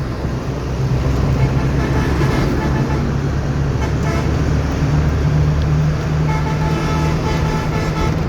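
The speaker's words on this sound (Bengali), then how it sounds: "মাত্র যমুনা ট্রেন ব্রিজ উপরে আসছে।" A train crosses the Jamuna railway bridge in Bangladesh on a foggy early morning, heard as a loud, steady rumble with a sustained horn-like tone running through it.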